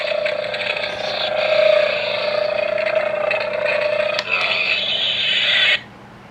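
A Thor hammer toy plays a loud electronic sound effect after its button is pressed, a sustained roaring, whirring tone that runs steadily for about six seconds and then cuts off abruptly.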